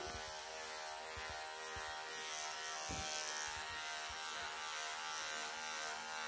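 Electric clippers buzz steadily up close while shaving a matted Persian cat, a continuous whirring hum with small changes in load and occasional soft knocks.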